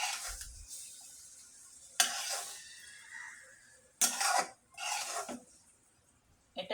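Cooked river fish from the Jamuna with potatoes is lifted from the pan into a bowl, heard as several separate scraping and clinking bursts of spoon on metal with quiet gaps between them.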